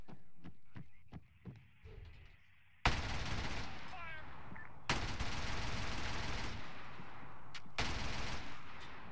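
Video game gunfire, scattered single shots at first, then long sustained bursts of rapid automatic fire that stop and restart several times, loud and close.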